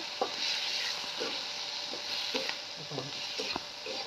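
Fenugreek greens and chillies sauté in a pan, with a steady soft sizzle and occasional scraping stir clicks close by; no talking.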